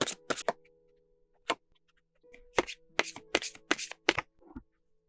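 Oracle cards being shuffled for a tarot reading: brief, crisp riffling bursts, close and quiet, arriving in irregular clusters with short pauses between them, and no voice.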